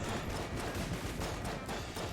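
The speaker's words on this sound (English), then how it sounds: "I just had a lot of explosions go off" Barrels bursting in the Enter the Gungeon video game on hard mode, a dense, continuous barrage of overlapping blasts and gunfire-like pops filling the whole stretch at steady loudness.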